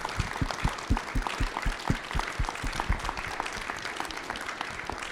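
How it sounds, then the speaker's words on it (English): Audience applause after a panel talk on water rights in the Upper Midwest, a steady wash of many hands clapping with some louder individual claps standing out near the front, sustained for the whole stretch. "Another round of applause."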